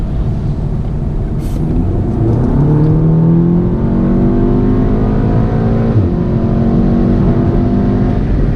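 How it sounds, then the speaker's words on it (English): A tuned Volkswagen MK7 Golf R with a Stage 2 build revs up hard and loud in sport mode, pitch climbing steadily through gears with a brief shift, interior engine drone dominating throughout. "I'm gonna put it in sport mode to give you an idea how quick she accelerates"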